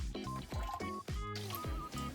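Water is poured onto red beans in a pot while koshian is being prepared. Soft wet splashes and drips come in a few short pulses, quiet and close, with no talking.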